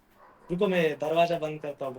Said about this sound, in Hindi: बहुत कुत्ते भौंक रहे